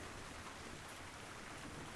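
Soft rain falling as a light drizzle, a steady even hiss of drops across the whole moment, faint and unbroken, with no voices.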